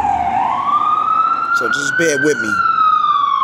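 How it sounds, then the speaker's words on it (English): At night in the South Bronx, a loud wailing emergency siren rises and sweeps steadily, close by, while someone speaks briefly over it. "It's late at night, so you're going to hear ambulance. You're going to hear cop cars."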